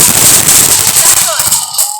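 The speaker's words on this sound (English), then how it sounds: "Let's get to the fireworks stuff." New Year firecrackers and fireworks go off close by as a dense, loud crackling burst that fades toward the end, with a voice heard briefly.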